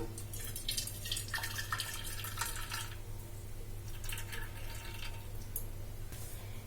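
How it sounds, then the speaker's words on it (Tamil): Melted jaggery syrup, just off the stove, is strained for sweet bonda, giving a soft, irregular trickle and patter of dripping liquid over a steady low background hum, with no talking. "ஸ்டவ் ஆஃப் பண்ணிவிட்டு இந்த வெள்ளத்தை வந்து நம்ம வந்து வடிகட்டி எடுத்துக்கலாம்"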